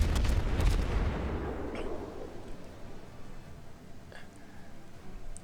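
Naval artillery fires in the World of Warships game: a loud, booming salvo at the start rolls off into a long fading rumble, followed by a couple of faint distant impacts.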